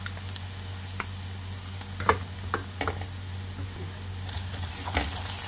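Ground coriander frying in hot fat for an Upper Egyptian okra dish: a steady low sizzle with a few sharp crackles and spoon stirring scrapes, fairly close, no one speaking.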